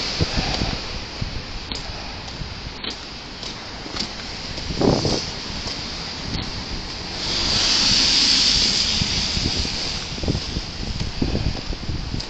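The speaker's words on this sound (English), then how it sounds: "Oh, bit of a wind there." Wind blowing outdoors in Montréal, a steady broadband rush with gusty buffeting against the microphone that swells into a stronger hissing gust partway through, with no talking.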